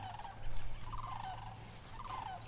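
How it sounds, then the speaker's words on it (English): Geese honk overhead above an amateur golf championship course, a few repeated calls coming in bursts over a steady low hum. "Michael Tucker commenting on the geese up ahead, flying right overhead of him"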